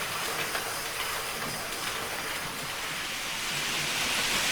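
A model train runs fast around a layout, giving a steady, close, hissing whir that holds evenly throughout with no talk.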